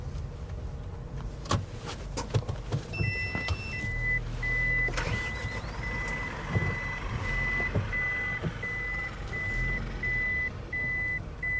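A car's reversing beeps sound as an evenly spaced series of beeps while it backs out, with clicks, clunks and a low engine rumble beneath and no talk.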